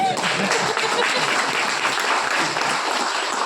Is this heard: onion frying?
no